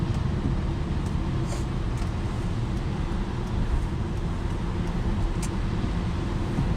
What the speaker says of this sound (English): We're merging onto a major highway.